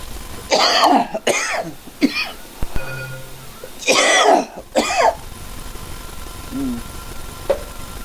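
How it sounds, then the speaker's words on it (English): Several harsh coughs and throat clearing come in bursts close to the mic, with quiet pauses and a faint hum between them. "Sorry about the cough."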